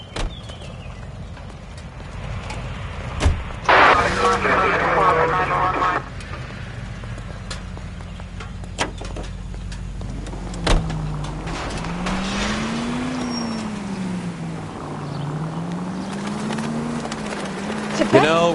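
Car engine in the video game L.A. Noire, a steady low hum with rising and falling pitch as the vehicle drives, along with brief bumps and a short louder burst, with people talking over it.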